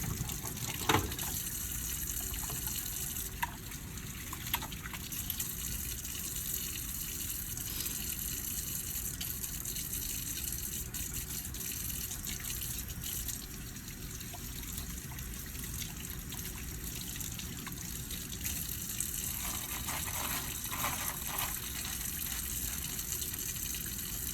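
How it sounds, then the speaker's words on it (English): Running tap water pours steadily into a sink while hands are washed, a continuous close splashing rush lasting throughout, with small splatter and rubbing changes and no talk. "I can wash my hands, so I'm going to show you how to wash my hands again."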